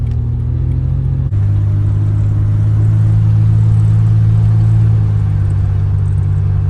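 A 1986 Nissan 300ZX engine runs steadily and loud, a deep close rumble that rises in pitch as the car pulls through its gears, with a sharp click near the start and no speech.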